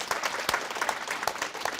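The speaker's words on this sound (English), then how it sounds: "Let's give them a round of applause." An audience applauds the panelists at a summit on Asian Pacific American student education, dense steady clapping from a roomful of people with a few louder claps near the front.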